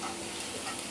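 Chili powder and turmeric frying in a pan of hot oil, a steady close sizzle with light stirring scrapes throughout, no voices.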